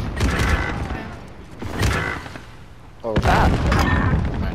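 Bursts of gunfire from an online multiplayer shooter game, several short volleys spread through the clip with booming reports, while players talk over the action.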